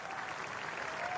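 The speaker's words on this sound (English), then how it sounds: "A good round of applause for Matt Henry" A cricket crowd at a New Zealand versus Australia Test match applauds, a steady distant wash of clapping with no break, fairly faint.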